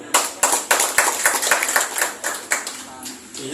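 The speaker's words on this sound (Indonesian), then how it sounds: "Ya, tepuk tangan dulu." An audience at a meeting of teachers and education staff with members of parliament claps together, a fairly loud burst of steady, close clapping with sharp individual claps, alone without talk.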